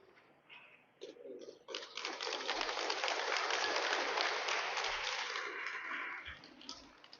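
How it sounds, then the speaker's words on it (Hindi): Audience at a students' union inter-school literary event in Basar bursting into sustained applause after a brief quiet start, with dense, even clapping that swells, holds and then fades slightly. "Keep on clapping"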